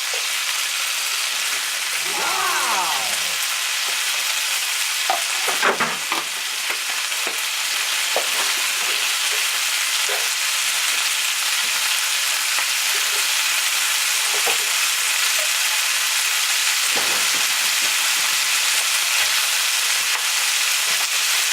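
Bacon and whole garlic cloves frying in a pan give a steady, dense sizzle and crackle throughout, close and fairly loud, with a few brief clinks and shifts of the pan.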